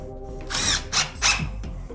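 Power drill driving screws into ceiling drywall, three short whirring bursts in quick succession, close and loud with no talk.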